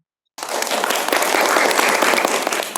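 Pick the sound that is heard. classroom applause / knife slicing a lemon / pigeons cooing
classroom applause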